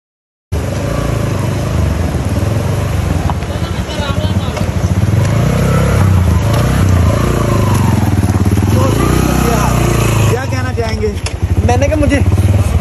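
A motorbike riding along a mountain road to Naran Kaghan, its engine droning loudly and continuously close by with wind buffeting, while someone talks over the ride.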